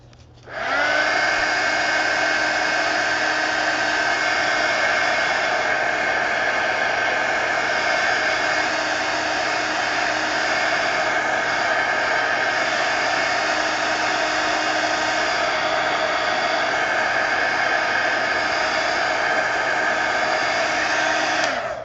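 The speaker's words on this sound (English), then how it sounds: "Let's hit this with the heat gun." A heat gun blasts hot air onto an altered book collage, switching on abruptly and then blowing as a loud, steady, unbroken roar with a faint whine for the full stretch, nearby and with no talk.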